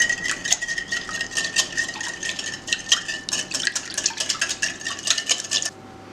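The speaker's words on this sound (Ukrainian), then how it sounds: "Та гарно-гарно це все перемішати." Egg-free turmeric cake batter being stirred in a bowl after oil is added, with a spoon clinking and scraping against the sides in a steady, busy rhythm, close and fairly loud, with no talking.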